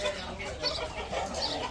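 Poultry birds cluck and chatter together at feeding time, a busy mix of close and overlapping calls forming a brief continuous flock sound.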